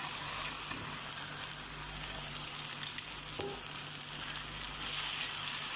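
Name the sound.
keema (minced meat) frying with ginger garlic paste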